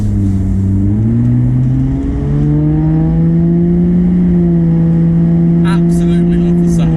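A 300 BHP Toyota Soarer engine revs up smoothly while driving, the loud, close tone climbing steadily in pitch and then holding a sustained drone.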